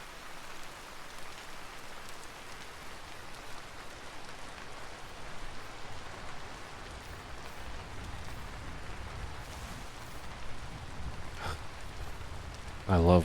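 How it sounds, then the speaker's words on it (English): Steady rain in the survival game Vinta, a soft, even patter of drops falling on surfaces that stays constant and fairly quiet from start to finish. "I love when it rains in games like this."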